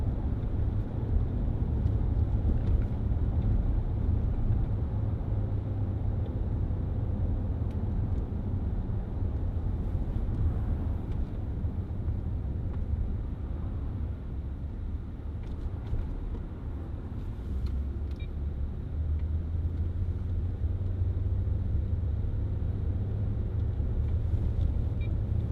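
A 2010 Range Rover Sport 3.6 TDV8 HSE on a test drive, heard from inside as a steady, dense low engine and road rumble with constant tyre noise, broad and unbroken throughout.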